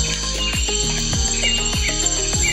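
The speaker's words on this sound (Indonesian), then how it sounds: "Ini suaranya hewan yang kecil, tongeret." A loud, continuous high buzz comes from tonggeret cicadas in a mountain forest on Mount Pandan, East Java. Regular descending pulses recur about every half second beneath the constant whine, with no voices.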